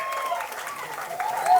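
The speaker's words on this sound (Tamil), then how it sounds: "ஒரு பெரிய கைத்தட்டல் வந்து சார் கொடுக்கலாம்." Audience at the audio launch of the movie Amaram giving a short burst of dense clapping in a hall, blended with a voice over the sound system.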